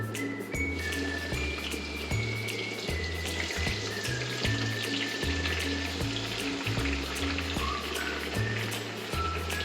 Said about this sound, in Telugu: ఆనియన్స్ డీప్ ఫ్రై చేసుకోవాలి.